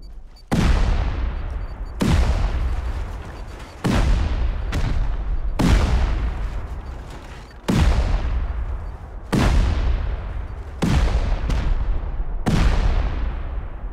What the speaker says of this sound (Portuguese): Tantas explosões assim, cara.